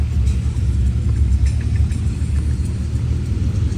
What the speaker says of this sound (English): nice Porsche pulling up